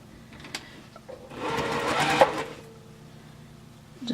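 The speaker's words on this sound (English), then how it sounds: "and just sew a straight seam." A sewing machine runs a short straight seam on quilt fabric, a close, steady mechanical whir lasting about a second and a half, framed by a few faint clicks and handling sounds.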